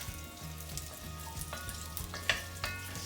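Butternut squash and mixed vegetables sizzle in a pot while a spoon stirs them, giving a steady close frying hiss broken by a few scraping clicks, with no voices.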